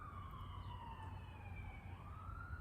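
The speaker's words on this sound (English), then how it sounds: "there's a siren." Distant emergency siren wailing faintly, its rising and falling tone drifting over a steady low rumble of background noise, with no voices.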